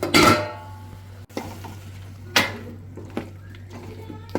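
Cut mushrooms are stirred into a cooking pan with a few sharp scrapes and clinks of a utensil against metal, spaced apart over a low steady hum, with speech nearby.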